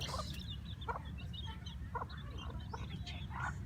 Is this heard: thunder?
no